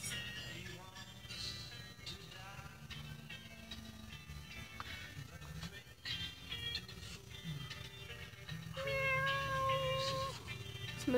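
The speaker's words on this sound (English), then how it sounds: "More cats." A cat meows repeatedly in a quiet indoor room, the short tonal cries fairly close and clear, with faint background clatter and no talking over it.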